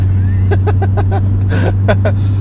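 Steady engine drone with a faint high whine inside a manual 2001 Honda CR-V cruising in 5th gear, continuous throughout, with a person talking over it.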